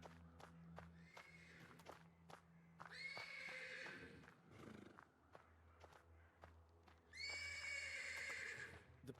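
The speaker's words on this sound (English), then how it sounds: "The persistent neighing of a horse can be heard from the stables." Horse neighing from the stables in the Black Book video game, two loud, drawn-out whinnies with shuffling hoof steps and a low ambient drone between them.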